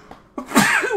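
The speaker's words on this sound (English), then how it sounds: "Uh-oh, I feel another sneeze coming on." A single sharp human sneeze erupts after a quiet moment, a sudden close burst followed by a loud, breathy, noisy release that trails off, heard alone without talk.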